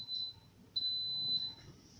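Instant Pot pressure cooker building pressure while cooking eggs in a home kitchen, giving off thin high electronic beeps, a short tone followed by a longer held one, fairly faint over a quiet room.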